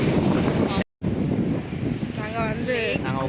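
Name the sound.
wind blowing at Ukkadam lake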